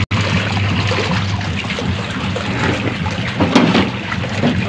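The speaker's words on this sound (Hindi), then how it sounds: "पानी मैंने डाल दिया मशीन में" Water pours steadily into a washing machine to soak a blanket, a continuous splashing trickle heard close by with no talking.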